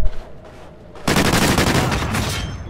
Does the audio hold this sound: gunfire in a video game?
yes